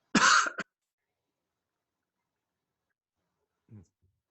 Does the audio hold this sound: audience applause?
no